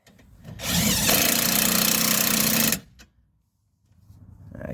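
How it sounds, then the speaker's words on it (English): A power tool snugs strut nuts on a 2016 Ford Mustang EcoBoost convertible's front strut assembly in one loud, steady whirring burst of about two seconds, followed by quiet and the start of another run. "Snug these nuts down before we get ready to torque them."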